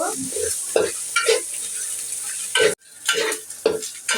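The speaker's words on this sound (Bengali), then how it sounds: "লবণ দিয়ে পেঁয়াজটা ভালো করে কষিয়ে নিব" Onions frying with salt in a pan, crackling under repeated rhythmic stirring strokes, loud and close, with one brief near-silent break before the stirring resumes.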